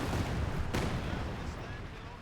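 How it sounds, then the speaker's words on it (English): Katyusha rocket artillery fires in Company of Heroes 2: a loud, dense roaring barrage with a sharp crack near the start, steady rumbling throughout, and a voice talking over it. "Oh, the Katyusha firing again here."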